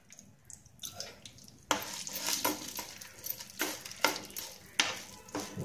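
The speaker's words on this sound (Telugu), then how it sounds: "ఆయిల్ వేసుకున్న తర్వాత శనగపప్పు, సాయమినప్పప్పు వేయించుకోవాలి." Chana dal and urad dal fry in a little oil in a pan for a coriander-tomato chutney. A faint sizzle breaks into repeated scraping strokes of a spoon stirring the lentils, with no talk.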